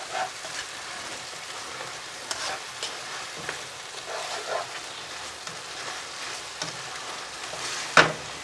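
A mushroom chop suey sauce, thickened with flour, is stirred in a hot pan, making a steady soft sizzle broken by scattered scrapes and clicks of the utensil. No one speaks.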